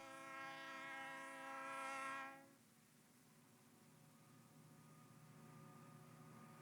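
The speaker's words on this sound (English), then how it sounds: "Nice sound of the train passing by." A train rumbles past with a loud harmonic horn blast that cuts off after a couple of seconds, leaving a steady low rolling rumble.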